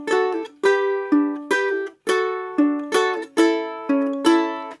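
Ukulele fingerpicking in a repeating 4-2-1-3 string pattern, each pluck ringing clearly with bright overtones, about two notes per second in a steady loop, close and solo with no voices.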